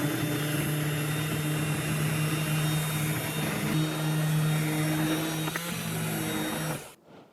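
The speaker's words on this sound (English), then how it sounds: "I'm gonna get out the blender." An electric blender runs steadily in a home kitchen while making turkey gravy, a loud, constant motor whine with a strong hum that holds evenly, then cuts off abruptly near the end.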